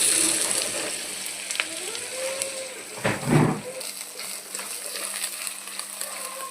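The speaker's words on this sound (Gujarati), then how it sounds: "તુરિયાનો વઘાર થઈ ગયો" Chopped ridge gourd is tempered in hot oil, giving a steady broadband sizzle that carries on through the clip, with a brief louder burst of frying and stirring in the middle and no speech.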